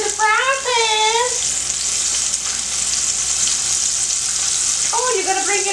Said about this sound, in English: Gotta listen to it. It's saying, hey, welcome to the frying pan.